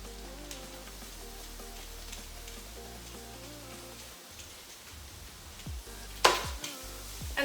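Garlic and crushed red pepper added to onions in a pan give a quiet, steady sizzle under soft background music, with a sharp utensil clatter near the end.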